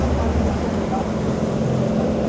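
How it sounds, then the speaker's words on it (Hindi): A landing-craft boat's engine runs steadily during a trip through Sir Creek, a deep continuous low rumble and drone that stays loud and unbroken throughout, with no talk over it. "ये कश्ती के इंजन है"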